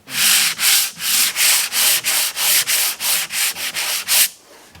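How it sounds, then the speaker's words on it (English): Rapid back-and-forth strokes of sandpaper rasp across fiberglass, about fourteen loud, evenly spaced rubbing passes up close, then a quiet stop. "You just got to hit it with sandpaper real quick."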